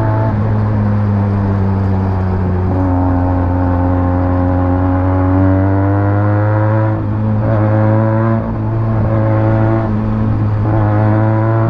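A Benelli 300TNT motorcycle engine drones loudly and steadily during a street race against a Honda City, its pitch climbing in a long rev before holding, with no talking.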